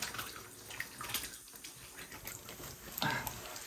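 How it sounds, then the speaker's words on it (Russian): Hands washed with water in a dirty old bunker, a steady close splashing and running of water with a brief louder gush near the end. "необходимо помыть ручки. Благо вода у нас есть"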